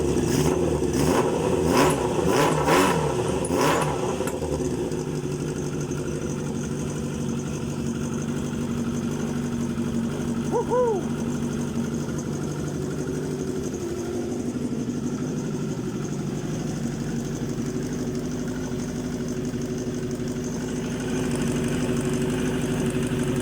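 A 1989 Kawasaki ZX-10 motorcycle, water in its engine after years of standing, cranks over with rapid starter pulses for several seconds, then catches and settles into a steady, fairly loud idle with a brief blip of revs midway.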